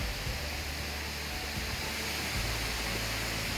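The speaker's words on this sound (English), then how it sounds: "There's the second waterfall." The second waterfall at Salt Springs in Pennsylvania pours steadily, a constant broadband rush of falling water heard close and without pause, with no talking over it.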